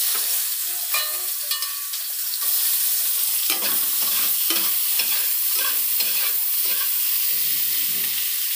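Onions frying in hot oil with bay leaves for a Bihari-style jackfruit curry, giving a loud, dense, continuous sizzle up close, broken by irregular stirring scrapes and clunks through the second half, with no talk.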